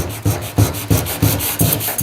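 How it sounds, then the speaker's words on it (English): Rhythmic rasping strokes of sandpaper on wood, breaking the edges of a model rally car, about six back-and-forth passes, close and loud with no talking. "I'm just sanding all over and breaking the edges a little bit"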